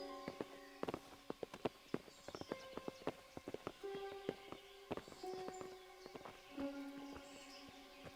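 Horses walking in the video game Kingdom Come: Deliverance, a series of distinct hoof clip-clops at an uneven walking pace, fairly near, with faint tonal music underneath.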